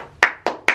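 Three sharp hand claps spaced evenly about a quarter second apart, close and crisp, each with a short decaying tail, part of a clap-and-stomp movement game.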